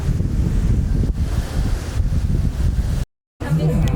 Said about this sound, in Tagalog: Uy, merong lakas ng hangin.